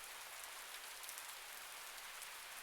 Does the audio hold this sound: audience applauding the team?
no